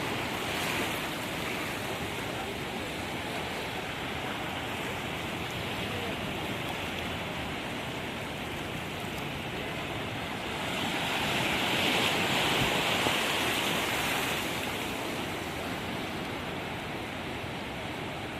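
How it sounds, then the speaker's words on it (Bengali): Surf rolls continuously on the Bay of Bengal during rain at a fishing spot. The roar of waves mixes with a steady hiss of rain and gusts of wind on the microphone, swelling louder partway through. "বৃষ্টি হচ্ছে, কিন্তু মনে হচ্ছে সাগরেই থাকি।"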